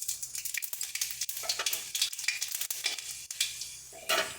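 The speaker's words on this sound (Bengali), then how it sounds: "এবার এর মধ্যে আমরা পাঁচফোড়ন ফোড়ন দেব।" Panch phoron whole spices hit very hot oil in a pan for a vegetarian Malabar spinach dish, giving a bright crackling sizzle with repeated sharp pops and spatters, close and steady, with no voices.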